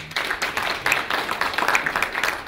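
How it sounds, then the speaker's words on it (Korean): Audience at a Korean regional-university activity report meeting gives a steady round of encouraging applause: dense, continuous clapping from many hands, moderately loud and even throughout, with no one speaking over it. "우리 김기수 담당관 수고 더 많이 하라고 격려의 박수 한번 좀 보내주세요"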